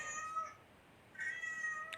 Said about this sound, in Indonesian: Dan suara meraung atau melolong ini juga digunakan kucing untuk meminta tolong dalam keadaan darurat